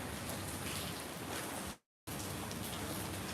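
Steady rain pours onto a surface outside a sheltered spot with outlets, a dense, even hiss that cuts out briefly midway, then resumes just as loud.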